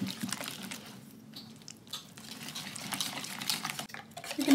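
A whisk works through a wet pumpkin scone mixture with spices, giving soft, quick swishing and light clinks against the bowl, close and fairly quiet, with a brief louder stroke at the end.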